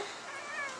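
A cat makes a brief, tense, wavering growl-like yowl, close and fairly loud, lasting under a second with no speech.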